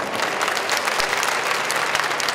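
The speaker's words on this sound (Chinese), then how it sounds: "是不是大家来鼓掌一下好不好？" Dense, steady audience applause at a city marathon ceremony, continuous clapping from a large crowd throughout, close and full with no pauses.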